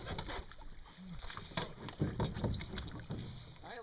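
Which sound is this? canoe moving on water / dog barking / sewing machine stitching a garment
canoe moving on water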